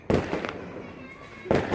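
Firecrackers bursting at a Diwali home celebration: a few sharp, loud bangs at the start, then another blast near the end, with a crackling tail and faint background voices.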